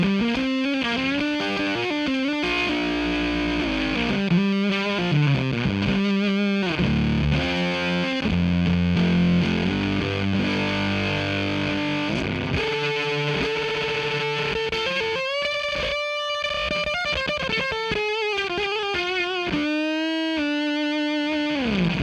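Electric guitar through a warm germanium transistor fuzz pedal, a continuous stretch of thick, saturated distorted playing with chords and single-note runs, loud and steady with no voice.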